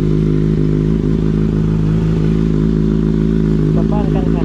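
Engine of a Kawasaki Ninja ZX-6R motorcycle on a daily ride, running as a loud, steady, close drone with a rough rumbling texture; a voice briefly joins near the end.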